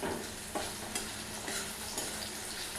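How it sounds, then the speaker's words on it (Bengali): Tomatoes stirred into onions and bay leaves frying in oil, a steady close sizzle with soft scraping stirs at a regular pace, no talk. "টমেটোটা একটু নেড়ে চেড়ে নিয়ে"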